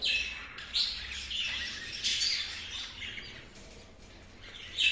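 Pet budgerigars chirp and twitter continuously in a home breeding setup with a nest box, bright overlapping calls rising and falling with a few louder bursts, close by, no talking.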